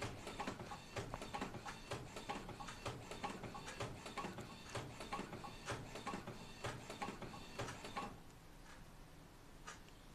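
An Epson L15160 inkjet printer printing a nozzle check, heard as a steady run of mechanical clicks and whirring carriage noise that continues for several seconds before easing into quieter ticking.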